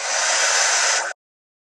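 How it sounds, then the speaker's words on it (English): A cheap heat gun blows steadily and loudly at close range for about a second while it shrinks a solder-sleeve connector on wires, then cuts off abruptly into silence. "I just use a heat gun."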